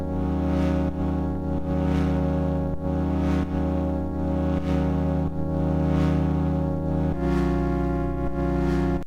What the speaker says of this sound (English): So that is a saw wave, which has got 16 voices of unison, but no unison detune.